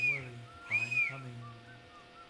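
A whistle blown in Axelito's Fun School video game: a few clear, pitched tones, one held and bending, rising near the middle, moderately loud over quiet background, ending in a sharp burst.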